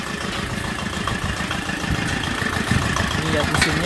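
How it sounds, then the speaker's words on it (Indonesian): The engine of a well-drilling machine runs steadily behind a house during a dry season, a close, rumbling idle with a low throbbing pulse that grows a little louder, while someone talks over it. "Ini ya mesinnya."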